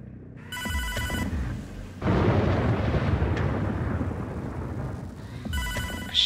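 A phone in the Hotline Miami 2 video game rings in two bursts of a shrill, buzzing electronic trill, separated by a loud, rumbling, noisy stretch; each burst is close and prominent, and no one speaks.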